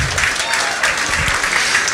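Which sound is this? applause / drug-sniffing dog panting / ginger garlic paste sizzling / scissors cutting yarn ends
applause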